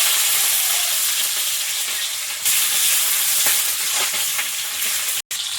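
Onion with panch phoron and bay leaf frying in plenty of oil for a Bengali mixed vegetable dish, a steady close sizzle and crackle throughout, with faint stirring scrapes and a brief break near the end.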